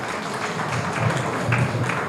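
Students applaud at a special counselling session held at a school, a dense, steady patter of many hands clapping together at moderate volume, with no voices over it.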